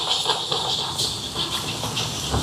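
An egg fries in a hot pan for chicken puttu kottu, Jaffna-style cooking in Sri Lanka, with a continuous close hiss and spitting crackle throughout, no talking.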